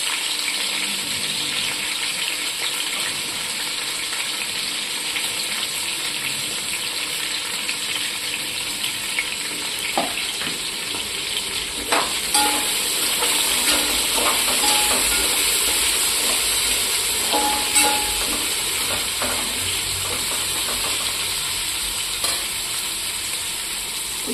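Green chillies and onions crackle and sizzle in a pan for a Telugu paneer, peas and potato curry, a steady loud frying hiss with occasional spoon clinks and stirring, no one speaking.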